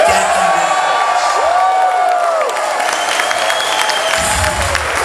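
A hot New York wrestling crowd at a House of Glory event applauds loudly, with steady dense clapping, whoops and cheering filling the room throughout.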